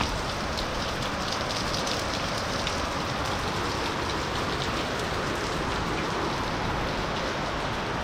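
Strong water rushes through a drain or channel during rain, a loud, steady, unbroken wash of noise with no voices.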